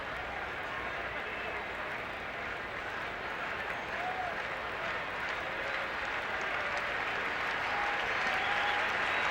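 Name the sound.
baseball stadium crowd applauding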